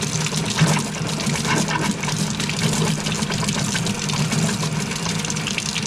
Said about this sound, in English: We're going to run the water until it becomes clear for about 5 minutes.